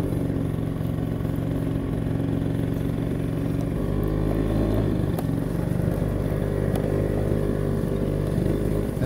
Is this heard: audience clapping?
no